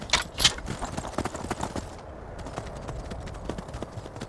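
Hooves clip-clop at a steady gallop from a horse in the game Skyrim, a quick, moderately loud rhythm of repeated hoofbeats that stays fairly close throughout.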